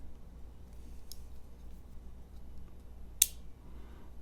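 Scissors on a Flissa 15-in-1 budget multi-tool, a Leatherman Wave clone, being opened: a faint click near the start and one sharp, close metallic snap later, set against quiet room hum.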